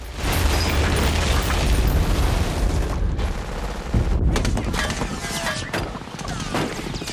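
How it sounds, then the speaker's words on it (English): German machine guns firing relentlessly in a Saving Private Ryan battle scene, dense loud bursts of gunfire mixed with booming explosions and chaotic battlefield noise, voices shouting faintly within the din. "The constant firing of the German M1 machine guns dominate the scene"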